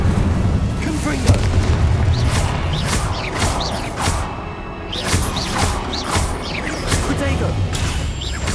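Confringo and Incendio spells explode in a Hogwarts Legacy battle, with a run of heavy booms and crashes dense with game effects, loud and close, over a constant busy backdrop with voices mixed in.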